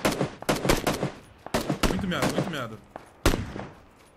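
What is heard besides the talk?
gunfire in the video game Battlegrounds (PUBG)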